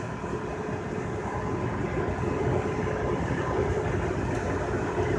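Freight train rolling along the track near the Colorado River, a steady broad low rumble with a faint tonal hum, constant and moderately loud throughout with no talk.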